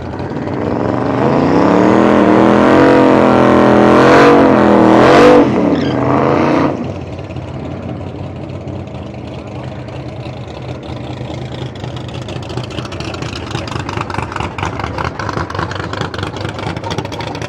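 A car engine warming up on a mild evening revs loudly and close for several seconds, the pitch rising and falling. It then drops sharply to a steadier, lower idle with a faint rhythmic pulse.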